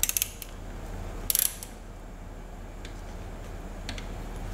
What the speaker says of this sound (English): torque this plug up to the correct specification